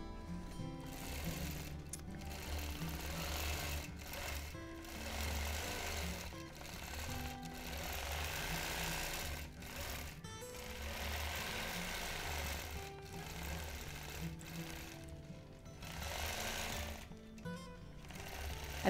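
A longarm quilting machine stitches a quilt in clamshell patterns, giving a steady, fast mechanical whir that runs continuously with brief pauses and changes of pace.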